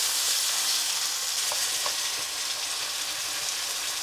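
Garlic and canned peeled tomatoes sizzling steadily in a pan, a constant loud frying hiss with a few faint stirring clicks, no voices.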